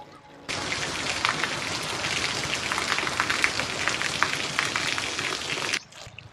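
Unseasonal rain pours onto farmland with a cumin crop, a dense, even hiss of drops hitting surfaces that starts abruptly, holds steady for about five seconds, then cuts off.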